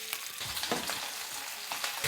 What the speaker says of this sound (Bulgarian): нагряваме тигана, слагаме зехтин, чесън, само спукан и добавяме агнешкото с мазнинката надолу